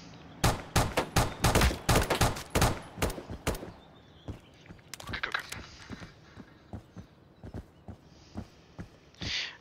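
Rapid machine gun bursts from Roblox Blackhawk Rescue Mission 5, loud sharp shots in quick succession, then sparser scattered shots trailing off, with no speech.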